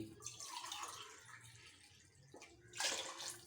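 Water poured from a vessel into a cooking pot for chicken biryani, a steady splashing pour that swells louder near the end, close by with no talk.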